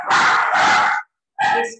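Two quick barks from a dog nearby, then a short pause and a third yappy bark.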